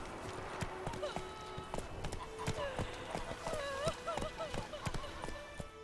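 Roach the horse gallops in The Witcher 3, hooves clip-clopping in a quick rhythm close by, with snorts and a brief whinny while a voice talks over the hoofbeats.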